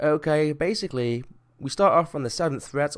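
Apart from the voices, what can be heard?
No distinct noise like a dog, phone or traffic.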